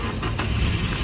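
A car engine catches and settles into a steady, loud idle rumble close by, a dense continuous drone with no talking over it.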